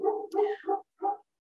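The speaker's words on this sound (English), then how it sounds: "That's my dog." A dog barks nearby, four short, loud barks in a quick uneven burst with a brief pause before the last, heard alone.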